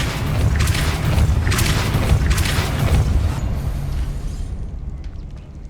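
Depulso spell impact in Hogwarts Legacy: a loud, rumbling blast with a few rolling bursts that fades out over several seconds, no speech over it.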